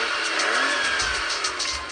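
Animated sports car engine from the Cars 3 teaser revving steadily at high pitch, loud and close, with a slight rise and fall over two seconds and no voices.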